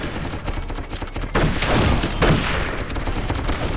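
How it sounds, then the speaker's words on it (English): Gunfire and blasts in the video game Darkest of Days, with a rapid crackle of shots followed by two loud booming surges, consistent with a grenade explosion amid ongoing battle noise. "The grenades have quite a large blast radius"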